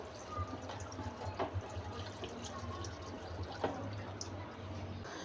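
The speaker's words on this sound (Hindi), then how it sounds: "पानी हम इसमें तकरीबन 700 से 800 ml पानी डाल देंगे," About 700 to 800 ml of water pours into a pot for mutton paya, a soft splashing trickle with a few drips, faint behind a low background hum.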